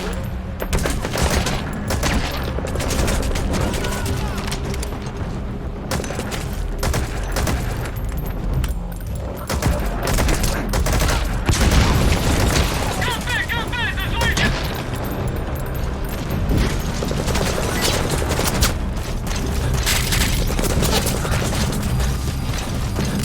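Dense, continuous gunfire with rapid bursts and heavy booming explosions in Metal Gear Solid 5: The Phantom Pain, loud and sustained throughout, with mechanical clatter mixed in.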